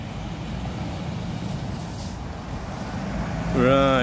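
A big truck rumbles steadily past on a road near Bannock Burn and Skeoch Roundabout in Stirling, loud and continuous, with an air brake hiss or horn-like tone rising at the end.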